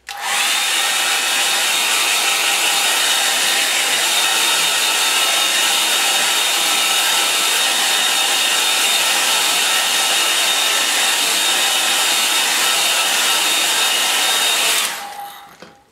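Hair dryer blowing on a watercolour painting, a loud steady whirring hiss running unbroken for about fifteen seconds before switching off.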